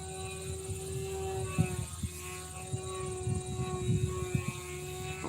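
A control-line aerobatic model airplane at an F2B contest in Dayton drones with a steady, tonal propeller and engine whine in dead-calm air. The pitch holds nearly constant, with faint thumps and knocks scattered underneath.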